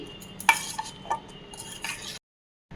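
A spoon mixing spices, kasuri methi and chopped coriander leaves together in a bowl, giving a few scraping strokes and light clinks against the bowl before cutting to silence.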